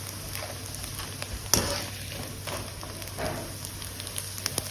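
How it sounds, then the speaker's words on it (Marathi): Sago sandage fritters deep-fry in hot oil over a high gas flame, a soft continuous bubbling sizzle with a sharper crackle burst near the middle and occasional pops, no voices. "गॅस मोठं करूनच सांडगं तळायचं म्हणजे आतपर्यंत तळलं जाते"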